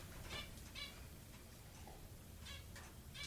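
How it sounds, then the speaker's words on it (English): Seagulls near a lighthouse call through an open window in several short, faint bursts of chirping, scattered and distant over a low background hum. "You may hear birds chirping in the background. That's the seagulls"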